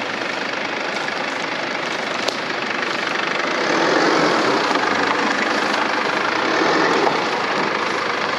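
Steady car engine hum and road rumble from inside a moving car, loud and continuous with a slight rise in level midway, no voices.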